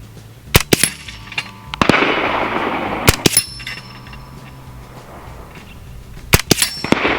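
A Hatsan Blitz .30 caliber air rifle fires outdoors in sharp, loud cracks, several quick bursts of closely spaced shots separated by pauses, each followed by a faint metallic ring.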